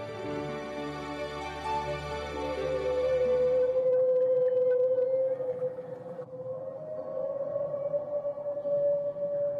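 Humpback whale song, long sustained tonal moans with rich harmonics that glide and hold steadily, loud and alone without other voices.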